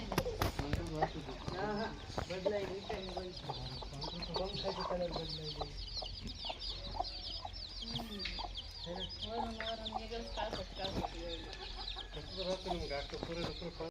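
Chickens and small white chicks cluck and cheep steadily throughout, with someone talking over the birds and brief low bumps underneath.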